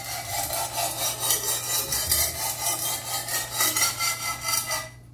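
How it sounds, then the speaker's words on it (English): A Maestro Wu G4 fish cleaver being scrubbed back and forth against a stone in a Jende sharpening jig, giving a steady rasping rub in even, repeated strokes about twice a second, close and clear with no talk. "I'm just going to go over evenly over the whole blade here. The scrubbing is just back and forth."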